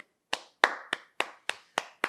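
Hands clapping on a talk show panel, seven sharp, evenly spaced claps, close and clear with silence between them.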